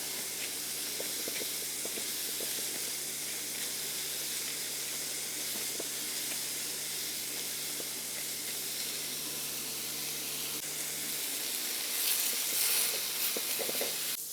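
Food sizzles in a pan with a steady, close hiss that continues throughout and swells slightly near the end.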